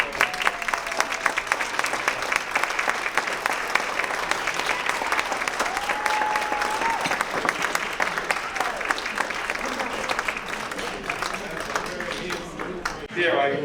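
Sustained applause fills a hall during a 2024 athletic hall of fame ceremony, steady dense clapping from a large seated audience for over ten seconds, with a few voices and cheers mixed in before it stops abruptly.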